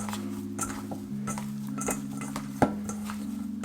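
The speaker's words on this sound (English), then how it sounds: "Give it a good mix again." Spoon stirring a potato mochi mixture with julienned bacon in a bowl, soft scraping and light clinks over a steady low hum, one sharper knock partway through.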